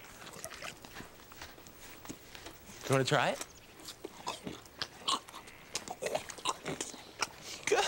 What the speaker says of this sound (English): Listen to the sound that horses make when they chew.